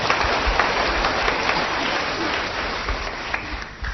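Congregation at a church service applauds together, a dense, steady wash of hand claps filling the room for several seconds, with a voice or two faintly mixed in.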